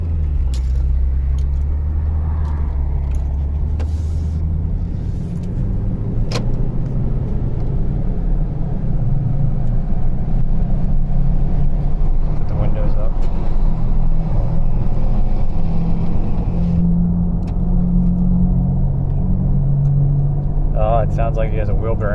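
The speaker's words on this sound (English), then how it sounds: "It sounds like he has a wheel bearing going bad" A 2009 Toyota Tundra 5.7L with a failing wheel bearing gives off a constant low droning rumble while driving, loud and continuous from inside the cab, with a voice talking over it at times.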